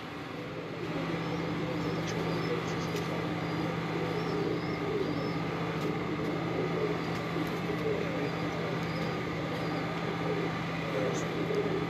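Kabuli pigeons in Karachi coo softly and intermittently, faint and somewhat distant beneath a constant mechanical hum and background noise.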